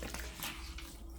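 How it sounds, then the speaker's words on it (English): Hands wash in a bowl of water after a vacuum repair, giving brief close splashing and sloshing with no talking. "Let me wash my hands off in this bowl of water."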